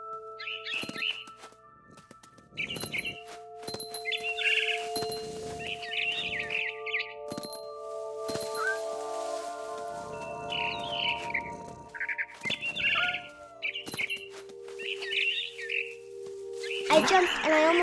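A frightened barn swallow in the game What Remains of Edith Finch chirps in rapid, agitated bursts again and again over a steady bed of ambient game music, with a louder flurry at the very end.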